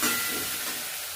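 Tomatoes dropped into a hot pan for chicken curry give a brief, close hiss of sizzling steam that flares at once and then eases off slightly.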